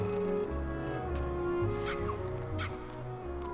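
Puppies barking and yipping in the Kingdom Hearts video game, small high yelps scattered over steady game music and ambience.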